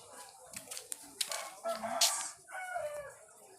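Nearby farmyard chickens cluck, with short repeated calls and a rooster-like crowing note rising over faint background noise.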